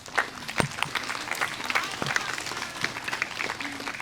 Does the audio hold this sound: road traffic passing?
no